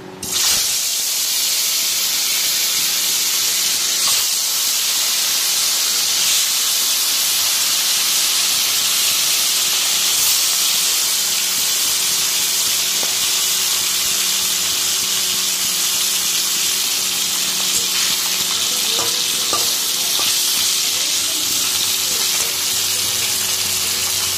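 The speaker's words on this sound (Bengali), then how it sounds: "এই দেখো মাছগুলো এখন সব ভেজে নিচ্ছি।" Steady, loud sizzling of fish frying in a hot wok, an unbroken hiss of spitting oil that continues throughout with no voices.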